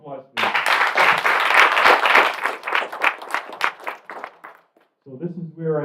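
Audience applause at a Caribbean community celebration, a dense burst of clapping that fades into scattered claps before a voice resumes speaking near the end.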